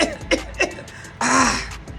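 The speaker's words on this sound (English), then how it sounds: "Clearing my throat." A man clears his throat with a short, rough guttural rasp, preceded by a few quieter throaty sounds, close and alone with no speech.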